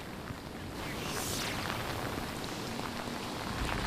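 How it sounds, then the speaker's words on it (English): Steady rain from Hurricane Isaias pours down in Georgetown with a dense, continuous hiss, fairly close and even throughout, with no voices. "the rain has really picked up here in Georgetown"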